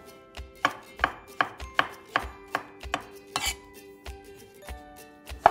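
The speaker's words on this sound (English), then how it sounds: "So I'll slice them up like that" Mushrooms sliced with a knife on a cutting board, a steady series of about a dozen crisp, evenly spaced chops close by, with faint ringing in between and no talking.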